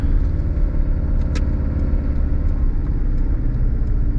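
A Mitsubishi Delica L400 van with an added turbo accelerates in second gear, its steady engine rumble and road noise droning loud and close throughout, with a brief higher whine rising near the middle.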